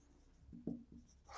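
Fractions written out in a maths lesson, a few short scratchy pen or marker strokes, quiet and close, with no talking.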